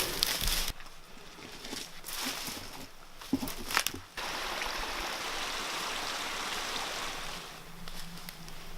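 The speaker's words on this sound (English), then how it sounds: "There's your little creek right there." Small creek flowing in a steady, close rush of water, broken near the start by a few sharp knocks and handling noises before the flow settles into an even murmur.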